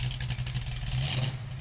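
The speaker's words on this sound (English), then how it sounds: "I would expect the noise the Shelby is making" A Ford Mustang Shelby engine holds a steady, throaty low rumble with a slight rise and fall, loud and close, with no voices over it.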